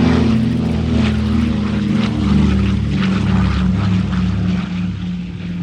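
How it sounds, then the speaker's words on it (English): C-47 propeller aircraft fly over an airshow with a loud, steady, throbbing engine drone that stays close and continuous throughout, with no speech. "was all the C-47s that they had flying over."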